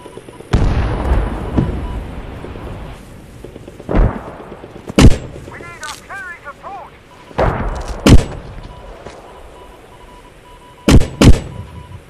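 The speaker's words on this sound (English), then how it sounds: "You two mate on the other mortar, 2 more rounds and then smoke." Heavy booming reports from Post Scriptum mortars ring out one at a time at irregular intervals, loud and close, sharp single thumps with a few distant pops between and faint background noise.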